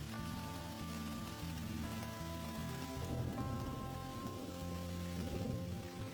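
Light drizzle patters steadily on a plastic wrap shelter in the wild, a soft, continuous spatter of small drops with a faint low rumble beneath.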